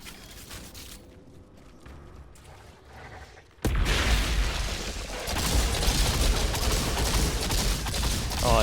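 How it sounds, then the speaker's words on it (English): Burst SMG fire in the video game Outriders, quiet mechanical rattles first, then a sudden loud onset of dense, continuous gunfire and booming battle noise that stays heavy to the end. "Oh, it's a burst SMG."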